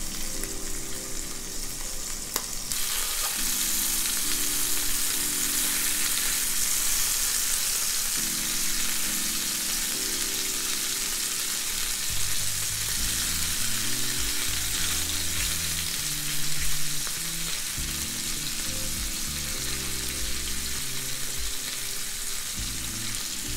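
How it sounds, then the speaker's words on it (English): Small pieces of liver fry steadily in a pan, a continuous bright sizzle that holds at an even level throughout, with low tonal background sounds beneath and no talking. "And for liver, you really don't need a lot of time, especially these are very small pieces. So you can fry them maybe a minute or on each side."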